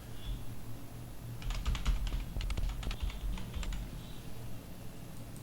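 Rapid keystrokes on a computer keyboard tap out a close, crisp burst of clicks lasting a few seconds, with a low steady hum underneath and no talking.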